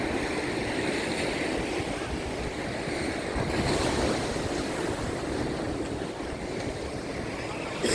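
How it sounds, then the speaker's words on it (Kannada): Ocean waves at Somnath Beach in Mangalore, behind the Somnath temple, roar in a steady, dense wash of surf mixed with wind buffeting the microphone, continuous and fairly loud with no voices. "ಮಂಗಳೂರಲ್ಲಿರ್ತಕ್ಕಂಥ ಸೋಮನಾಥ ದೇವಸ್ಥಾನದ ಹಿಂದುಗಡೆಗೆ ಸೋಮನಾಥ ಬೀಚ್ ಇದೆ."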